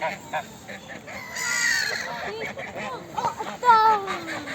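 Ducks being fed by a family outdoors, with a child tossing food, give several squeaky calls and quacks near and far, while adults and someone talk throughout.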